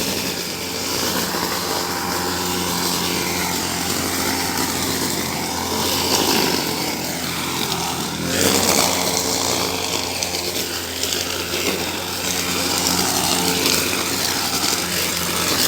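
An engine-powered machine cutting grass runs continuously at a steady loud drone, with slight swells and dips in pitch as it works; no talking is heard over it.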